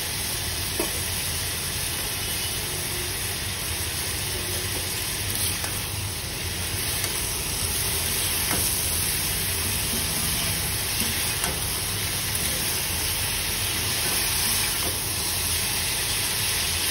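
Vegetable stems (data bhaji) stir-frying in a pan, giving a steady, continuous sizzle with faint scraping stirs now and then, close and even throughout, with no talking.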